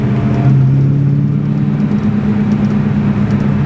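A supercharged Saleen S281 Mustang cruises in fourth gear, its engine a steady low droning hum with a smooth sustained tone, loud and close, little change in pitch throughout.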